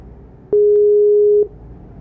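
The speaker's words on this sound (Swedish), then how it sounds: "Nu ringer vi upp honom" A single long electronic ringing tone of a Skype call, steady and clear for about a second, starting abruptly and cutting off cleanly amid quiet room background.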